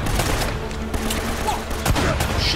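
Rapid, dense bursts of gunfire from blind cover fire in the action game Uncharted: Drake's Fortune crackle loudly and close, one volley after another.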